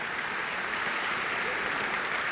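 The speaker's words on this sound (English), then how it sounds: "I hope you can hear the applause from the audience" A gala audience applauds in a sustained, dense round of clapping that holds at an even level throughout, with nothing else standing out.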